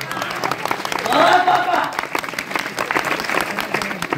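Audience applause at a devotional kirtan gathering in a Maharashtra village, a steady wash of clapping with a louder swell in the middle, heard under ongoing talk.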